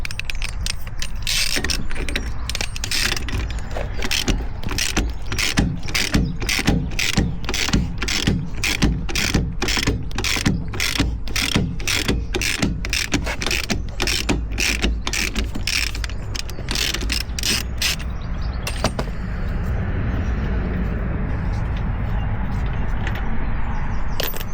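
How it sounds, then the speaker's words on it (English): A caravan handbrake lever being worked, giving a long run of rapid, evenly spaced ratchet clicks up close that stops near the end, leaving a low mechanical rumble. "it does pull up okay, the handbrake"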